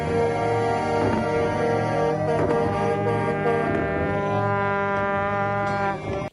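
Several truck horns blare together in a sustained, loud chorus of overlapping tones, honking steadily in a crowded street protest before cutting off abruptly at the end.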